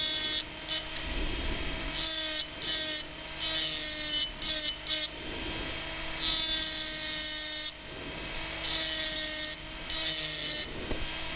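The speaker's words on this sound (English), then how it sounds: "it's just breaking the surface of the glass where I want it engraved" A rotary burr engraving a glass vase gives short, whirring grinding bursts that start and stop repeatedly, with brief pauses in between and no voices.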